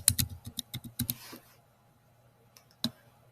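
A quick run of crisp keystrokes on a computer keyboard as a password is entered, about a dozen close, sharp clicks in a burst, then a pause and one final key press.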